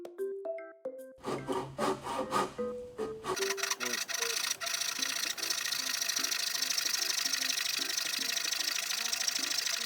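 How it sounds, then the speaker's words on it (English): A crosscut hand saw makes a rip cut along the grain of wood, producing rhythmic rasping strokes that start slow and uneven, then settle into a fast continuous close sawing rasp. "Now I'll try rip cut with the crosscut saw."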